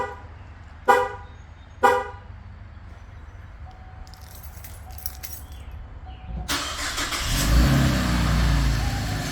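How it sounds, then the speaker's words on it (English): A 2015 Chevrolet Camaro V6 with its stock exhaust and large factory mufflers: two sharp clicks come first, then the engine cranks and catches, settling into a steady, fairly quiet idle close by. "Right now it's got just a bone stock exhaust. And you can kind of hear what it sounds like."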